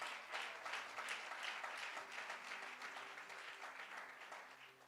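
A church congregation applauds an evangelist in a dense, sustained round of clapping heard at a distance, fairly faint and steady for several seconds.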